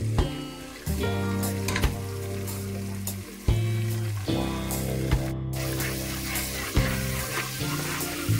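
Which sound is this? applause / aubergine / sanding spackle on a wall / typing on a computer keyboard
aubergine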